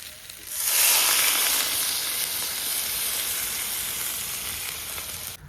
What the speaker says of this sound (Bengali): মেটে আলু ভাজা হয়ে গেছে, এবার আমি জল দিয়ে দিচ্ছি।